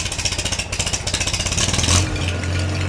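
A Farmall Super H tractor engine with a throttle handle being adjusted, revving up through higher RPMs: rapid regular firing pulses climb and build into a louder, steady drone, close and alone.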